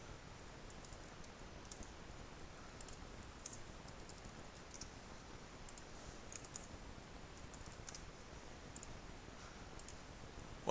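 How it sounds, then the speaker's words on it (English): Fast, light clicking of computer keyboard keys during an online poker session, steady and soft throughout with no voices. "I'm trying to run my mouth in the chat box, but apparently I'm unsuccessful in typing."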